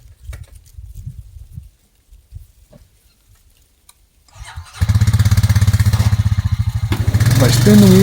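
A four-wheeler engine roars to life and runs loudly up close while dragging a log out of cleared woods. Quieter talking and rustling come first, then a steady, pulsing engine drone rises in pitch near the end.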